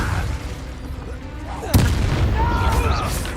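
A Confringo spell explodes in Hogwarts Legacy as a sudden sharp blast over continuous battle noise and spoken spell-casting, followed by a sustained rumbling tail.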